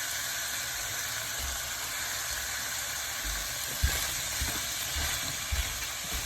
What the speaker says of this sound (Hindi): अब इसके अंदर मैं सारी जो वेजिटेबल है वो सारी मैं डाल दूँगी।